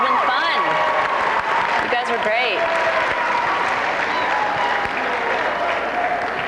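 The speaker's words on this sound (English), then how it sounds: "how about a round of applause for Lisa Ling and Crystal Green from Channel 1." An audience at a 1998 student council regional conference applauds Lisa Ling and Crystal Green of Channel 1, sustained clapping running throughout while a voice talks over it near the microphone.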